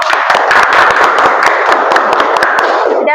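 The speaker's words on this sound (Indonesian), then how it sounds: "Beri tepuk tangan dulu." A high school class bursts into loud, dense clapping close by, a continuous burst of overlapping claps lasting a few seconds before stopping abruptly.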